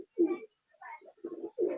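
Madras pigeons in a loft give a few short, close coos in quick succession, each a soft throaty burst separated by brief silences.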